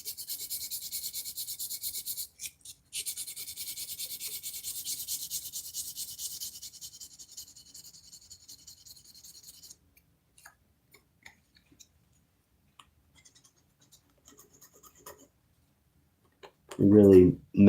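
Epoxy putty on a Kyosho RC motorcycle body being sanded by hand in quick, close, raspy strokes, then a pause and scattered small ticks, with a brief voice at the very end.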